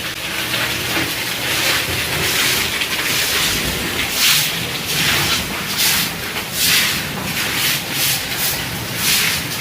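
Rainwater pouring off a house roof in a heavy stream, like outflow from a motor pump, and running to waste on the road: a steady, close rushing splash with no pauses.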